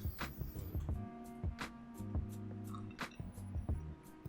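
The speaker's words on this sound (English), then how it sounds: "So let's pour it into the glass and have a look." Oak gingerbread beer poured from a bottle into a glass: faint, close gurgling and fizzing liquid with soft drips and a light clink of glass, heard alone without talk.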